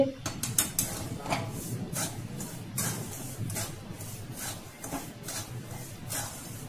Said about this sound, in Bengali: নাড়াচাড়া করছি লবণটাকে, একটু ভালো উত্তপ্ত হলে ভালো হয়।